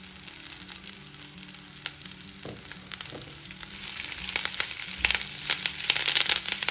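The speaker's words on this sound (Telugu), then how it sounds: "ఉల్లిపాయ ముక్కలు వేసి వేయించుకోవాలి" Dried chillies, onion pieces and curry leaves frying in hot oil for a chutney, with a steady close sizzle that swells and crackles more brightly toward the end, under faint background music and with no talking.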